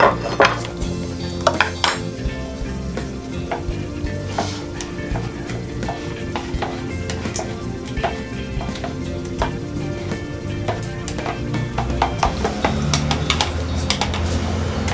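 Sweet martabak batter is stirred steadily in a bowl, with continuous scraping and clinking of the utensil against the container and frequent sharp taps throughout, fairly loud and close.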